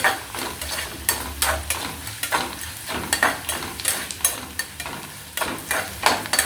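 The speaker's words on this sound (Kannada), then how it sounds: "ಚೆನ್ನಾಗಿ ಫ್ರೈ ಆಗಬೇಕು ಈರುಳ್ಳಿ" Onions and potatoes sizzle and fry in a pan for a potato palya filling, with a steady crackle broken by repeated scraping stirs of a spoon or spatula against the pan, loud and close, with no talk.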